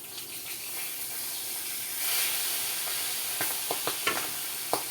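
Milkfish (bangus) frying in hot oil, a steady close sizzle and hiss with a few sharp pops and crackles near the end.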